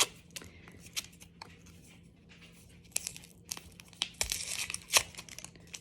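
Paper wrapping being torn and crinkled open from around a gauze roll taken from a new first aid kit, close and fairly quiet, with a run of sharp tears and rustles and a denser crinkling burst near the end.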